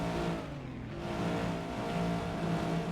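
At a race start at Spa, a race car engine hums and revs steadily, a dense, loud, continuous mechanical drone with a sustained low tone and no pause across the clip.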